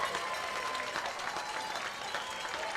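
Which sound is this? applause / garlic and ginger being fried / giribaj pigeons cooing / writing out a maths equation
applause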